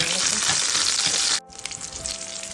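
Loud oily sizzling of spices and garlic frying for tomato rasam tempering, cut off abruptly partway, then a quieter bubbling sizzle continues.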